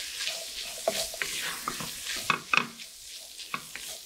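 Vegetables and flour being stirred into rendered bacon in a pot for a clam chowder base, with close, uneven scraping and shuffling strokes over a soft sizzle and no voices.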